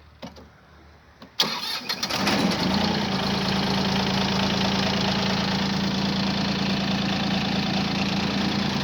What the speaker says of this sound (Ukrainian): доки трактор не заведеться